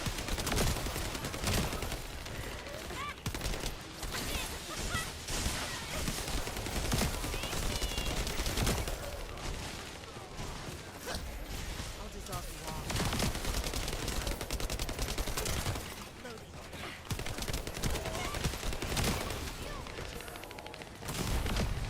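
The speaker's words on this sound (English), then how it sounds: "that machine gun seems like it's doing an insane amount of damage" Sustained automatic gunfire from a machine gun in The First Descendant, a dense steady clatter of rapid shots running continuously at high level, mixed with other game combat sounds.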